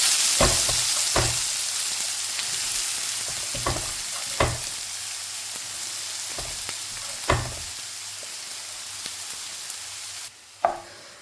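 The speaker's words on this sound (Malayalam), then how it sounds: "ഇനി ഞാൻ ബ്രൊക്കോളി ഇങ്ങോട്ട് ഇടാൻ പോകുന്നത്" A steady, close sizzle of broccoli frying in hot oil, broken by occasional clunks and scrapes of stirring.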